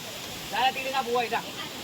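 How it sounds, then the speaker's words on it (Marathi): A waterfall roars at night as a steady broadband rush of falling water, while someone talks briefly over it in the middle. "इथे सुंदर असा धबधबा आहे"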